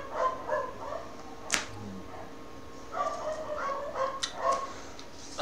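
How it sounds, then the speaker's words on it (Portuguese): Agitated dogs barking in the video game Borderlands, several short yelps and barks scattered at moderate distance beneath a low game background hum. "Cachorrada nervosa."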